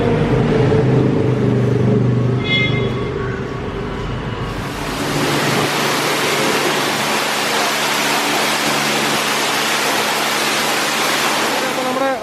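A high-power pressure washer sprays a Royal Enfield Himalayan motorcycle, a loud continuous hissing roar of water that swells and fills the sound after a brief lower-pitched stretch, steady to the end.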